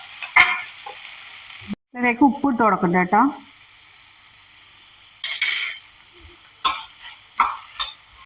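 Chopped onions and coriander sauté in a pan, with spluttering sizzle and utensil scrapes in intermittent bursts around a person speaking.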